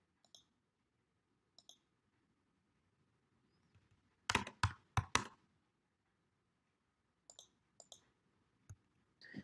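Mouse clicks on a computer during AutoCAD drafting, sharp isolated single and double clicks scattered across a quiet background, with a denser cluster in the middle.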